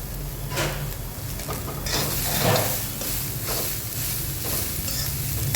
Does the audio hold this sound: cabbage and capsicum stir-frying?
yes